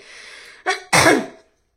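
A single sharp cough, preceded by a short breathy catch, close and fairly loud before falling silent.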